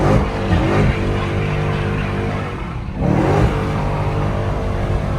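Dodge Hellcat engine revving hard and accelerating, a loud rising roar that dips briefly around a gear change, then surges again, with no talking.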